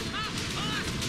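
Explosions go off in a video game, dense and continuous across the short moment, with crackling blasts layered over one another at steady loudness.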